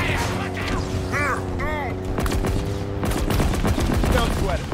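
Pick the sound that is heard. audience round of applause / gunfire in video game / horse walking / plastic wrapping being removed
gunfire in video game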